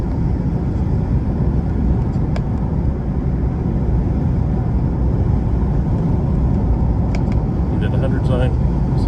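A car with an automatic transmission accelerates, heard from inside as a loud, steady low engine and road roar that carries on evenly, with faint voice sounds near the end.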